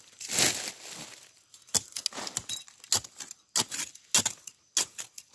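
A plant being cut beside a river, repeated sharp snapping and tearing strikes at irregular intervals, close and fairly loud against a quiet background.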